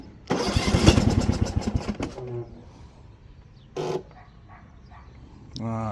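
A Troy-Bilt TB30R string trimmer salvaged from the garbage is pull-started: a rattling two-stroke burst sputters for under two seconds and dies, followed by further short pull attempts and a brief human exclamation.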